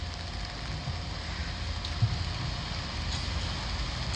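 Steady rain falling outdoors beside a school building and a park area, a dense, even hiss of drops that holds constant throughout, with no speech.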